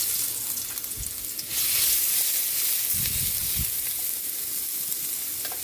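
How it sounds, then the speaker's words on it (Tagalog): Garlic hitting hot oil in a pan and sautéing for sinigang sa miso, a loud steady close sizzle that swells after a second or two, with a few low knocks of a spatula stirring. "Lagay na natin yung bawang. Gigisa na tayo."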